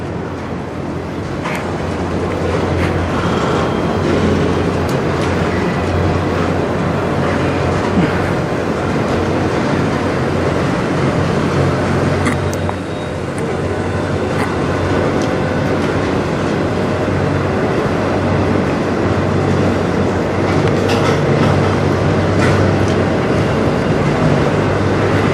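CN freight train creeping slowly into a tunnel at night in Sarnia, Ontario, a long continuous heavy rumble with low steady drone and faint metallic rattles and clanks, loud and unbroken.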